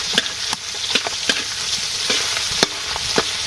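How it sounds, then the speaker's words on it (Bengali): Boal fish fries in a pan, with a steady bright sizzle and crackle and scattered sharp pops and spatters close up, and no talking. "মাছ ভাজিটা হয়ে আসছে"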